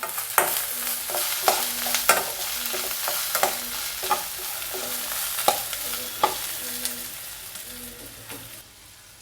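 Beans with asafoetida sautéed in a pan: continuous frying sizzle punctuated by sharp, regular spatula scrapes and taps, about one every second, close up and without speech.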